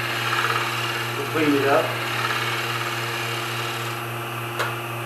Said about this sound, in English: So I could simply shear scrape this corner